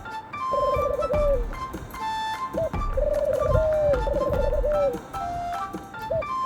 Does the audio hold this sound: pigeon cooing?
yes